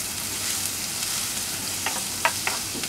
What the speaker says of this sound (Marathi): याला व्यवस्थित परतून घ्यायचं आहे